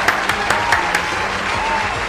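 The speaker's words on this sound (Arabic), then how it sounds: "تصفيقة، تصفيقة." Studio audience applause on an Arabic quiz show, a steady wash of clapping with a few sharper bursts near the start, lasting about two seconds with no talk over it.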